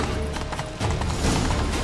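Horse hooves clip-clop steadily in the video game The Witcher 3: Wild Hunt, Blood and Wine, a continuous loud trotting rhythm over dense game ambience.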